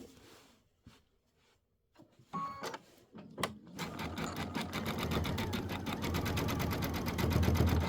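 A sewing machine stitches in the ditch on a Christmas quilt with smoke thread, starting with a few quiet clicks and handling noises before settling into a steady, fast, close mechanical whir.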